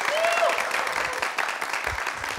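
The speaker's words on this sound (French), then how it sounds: "Merci de l'applaudir." A studio audience on a television show claps in a full, steady burst of applause, with a faint voice briefly underneath near the start.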